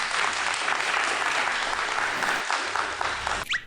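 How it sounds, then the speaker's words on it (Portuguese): A group of people at a hair clinic claps together in steady, dense applause that holds for several seconds, then cuts off abruptly near the end. "uma salva de palmas para vocês"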